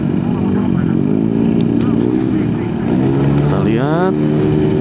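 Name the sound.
motorcycle passing on the road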